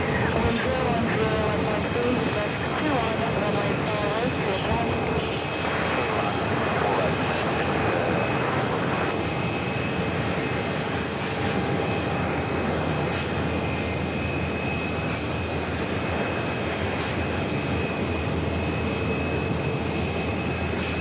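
An Airbus A380 taxies toward a gate at JFK airport in New York, giving a continuous engine drone with steady high whine tones, moderately loud and unchanging in level.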